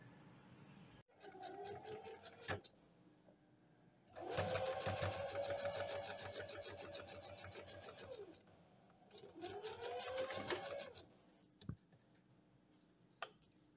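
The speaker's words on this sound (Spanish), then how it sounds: "vamos a realizar la costura por la sisa, también en el escote" A sewing machine stitches the armhole and neckline seams of a dress lining in three separate runs of rapid ticking needle strokes, with short pauses and a few clicks between them.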